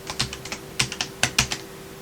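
Clicks of typing on a computer keyboard, a quick, slightly uneven run of about a dozen light, close keystrokes with no voices.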